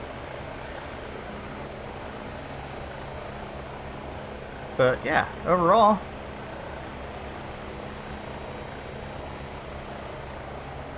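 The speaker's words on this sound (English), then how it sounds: "So let's hop back into the helicopter" A CowanSim 500E helicopter hovers at an Alaska bush strip in the Microsoft Flight Simulator 2020 game, giving a steady, even engine and rotor drone with a thin high whine. Someone speaks briefly over it.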